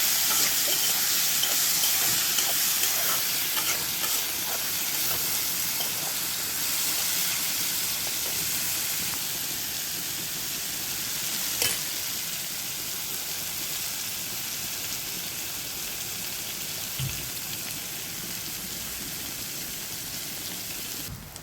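Bitter gourd frying in a pan, a steady close hiss and sizzle that runs unbroken, with a few faint clinks, and no voices.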